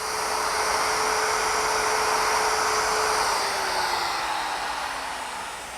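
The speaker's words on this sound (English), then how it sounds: "to plow out the bad material, I'm going to use my router, which is equipped with a special collar and a little spiral" A router fitted with a spiral bit and guide collar plows out bad wood in a continuous, close, high-pitched whine, its tone sagging slightly toward the end, with no talking.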